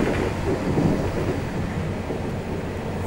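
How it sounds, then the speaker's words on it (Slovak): A train braking around 1999 near Trnava, a steady low rumble and broadband roar filling the space, loud and continuous with no distinct squeal. "Teraz sa pozriem, že prečo vlak brzdí."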